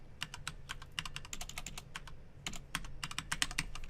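Rapid, irregular keystrokes clatter on a computer keyboard while Python code is typed, crisp and close with brief pauses between bursts and no talking.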